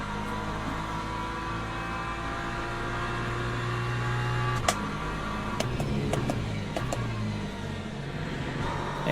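An LMP2 prototype race car in the Le Mans Ultimate racing game draws closer, its engine a steady, even drone over the other cars' hum, with a few sharp clicks and knocks scattered through the second half.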